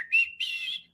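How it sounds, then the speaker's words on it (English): A person whistles two short, clear tones, the second held a bit longer, close and fairly quiet. "I like that whistling."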